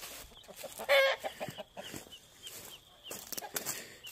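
Chicken on a homestead clucking in short, bright bursts, one louder call early on, mixed with scattered rustling and quieter bird sounds at close range.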